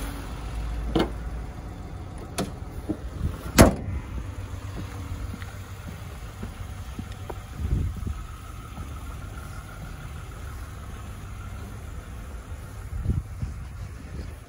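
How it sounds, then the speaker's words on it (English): A 2010 Toyota Sienna minivan's V6 engine runs at a smooth, steady idle, a low even hum close by with a few faint clicks and knocks over it and no talking. "Has a legendary Toyota V6 in it. Sounds smooth"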